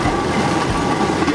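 Riding aboard a train on the Malaya Oktyabrskaya children's railway in Leningrad: a loud, close rumble of wheels on rails with a brief clicking over the track joints.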